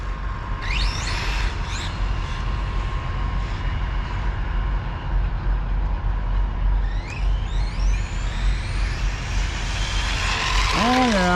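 An RC monster truck runs on a 3S battery, its electric motor whining and rising in pitch over constant outdoor rumble, with a sharp high-pitched sweep near the end.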